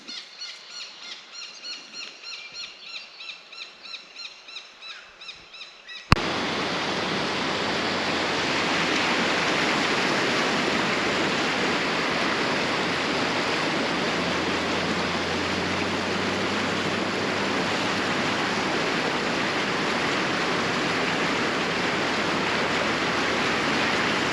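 Water at a bush camp site along the Australian coast, a loud, constant broadband rush like flowing water or surf that fills most of the clip after a brief quieter stretch with rhythmic chirping insects or birds.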